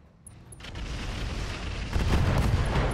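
An SRM ammunition explosion in a mech combat video game, heard as a heavy, rumbling blast that builds and swells through the clip, loud and alone without talk.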